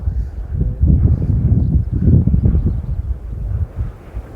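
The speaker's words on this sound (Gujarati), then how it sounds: "શિયાળુ પવન છે" Strong gusts of wind buffet the microphone in low, surging waves, rising and falling loudly for several seconds with no voices.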